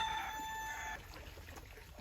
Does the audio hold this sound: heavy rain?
no